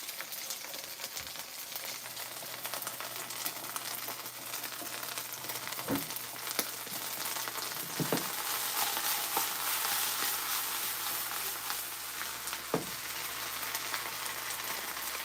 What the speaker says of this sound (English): I put these on a little bit more higher heat because I want them to start frying with the manteca.